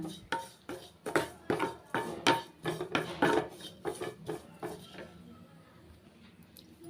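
Sesame seeds and coconut dry-roasting in a pan as the mix is stirred, giving a run of about a dozen close, sharp scraping and tapping strokes in a steady rhythm. The strokes fade out into quiet, with faint talk behind them.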